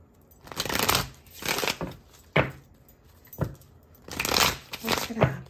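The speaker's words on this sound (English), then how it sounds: "Shuffle it really good here" A deck of tarot cards being shuffled by hand, several quick rustling, riffling bursts separated by brief pauses, close and fairly loud.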